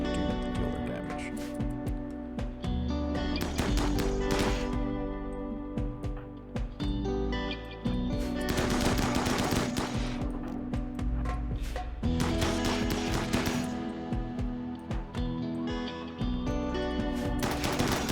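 Continuous battlefield gunfire from a video game colony battle: dense volleys and rattling shots layered over steady music, loud and unbroken throughout.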